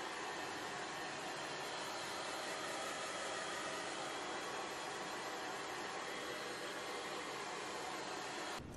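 A blow dryer runs steadily, drying hair spray on a wig, a continuous broadband whoosh of rushing air that holds at an even level throughout and cuts off abruptly at the very end.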